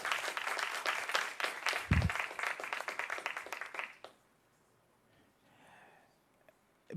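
Audience applause in a moot court session, dense clapping for about four seconds with one low thump partway through, then cutting off abruptly into near silence with faint background noise.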